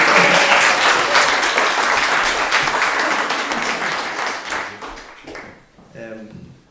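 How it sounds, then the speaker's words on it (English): Audience applause at a book launch, a loud, dense round of clapping from many people that gradually thins and fades, then a voice begins speaking near the end. "Give him a round of applause, ladies and gentlemen."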